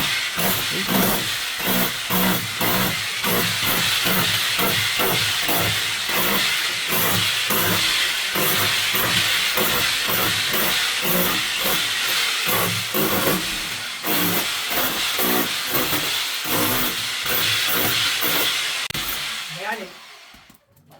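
A Reward Energy chipping hammer hammers away in rapid, loud repeated bursts, a harsh hissing rattle that pulses steadily before cutting off at the end.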